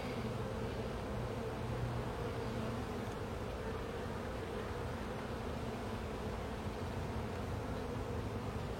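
Honeybees hum in a dense, continuous drone around an open hive, a close and steady swarm buzz with no voices.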